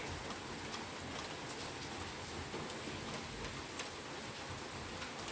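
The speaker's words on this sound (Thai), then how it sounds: "แต่ตกไม่แรงนะคะ แต่ว่าฝนแบบนี้แหละ ตกนาน" Light but steady rain falls outdoors, a dense even hiss with faint scattered ticks of drops on a surface, continuous and unbroken.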